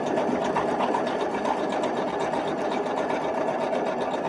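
A sewing machine runs steadily and close by as it stitches along diagonal seam tape during quilt piecing, giving a continuous whirring hum with no pauses and no talk.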